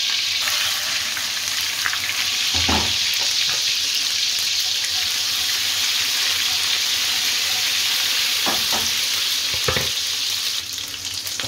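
Ginger and garlic paste sizzles loudly and steadily in hot oil for a takeaway-style lamb curry, with a few brief stirring scrapes and clatters breaking through the constant frying hiss.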